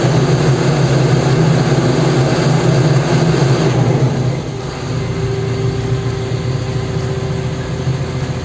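A TATA Hitachi TL340H Prime loader's diesel engine runs loud and steady as the accelerator is pressed, a dense low droning roar that shifts pitch and eases slightly partway through.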